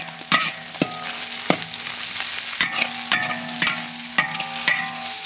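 Pork stir-fried in a wok with ginger and garlic, loud close sizzling under repeated sharp metallic clanks of a spatula scraping and tossing, strikes coming every half second or so, no talking.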